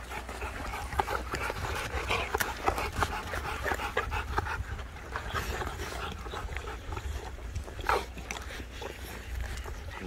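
Dogs tear into sliced beef nearby, panting, chewing and whimpering in bursts over a steady outdoor background, with a voice faintly talking now and then.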